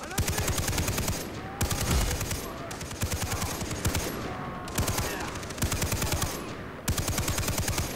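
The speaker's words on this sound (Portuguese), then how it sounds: "quem tá atirando em mim aqui?" Sustained automatic gunfire in the video game Far Cry 3 co-op mode, long rapid bursts broken by brief gaps, loud and close with a player talking faintly underneath.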